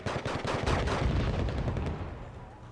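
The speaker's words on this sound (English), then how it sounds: "ridiculous explosion" A big in-game explosion from a Wargame Red Dragon naval battle, from a pre-patch MLRS strike: dense, rolling booms and crackling blasts merge into one sustained, loud roar that slowly fades.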